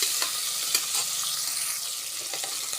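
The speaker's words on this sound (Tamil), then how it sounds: "நல்லா வதக்கி விட்டுக்கலாம்" Sliced large onions with curry leaves sizzle in a hot pan while being sautéed for tomato rice, a steady loud frying hiss with a few soft scraping stirs, no voices.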